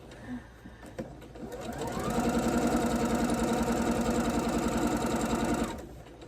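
A sewing machine stitches a quilt. A few slow stitches come first, then the motor rises into a fast, steady, close whirring run of several seconds before it stops abruptly.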